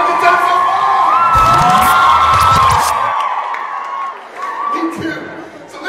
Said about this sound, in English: Let's give a big round of applause to David Edward Garcia.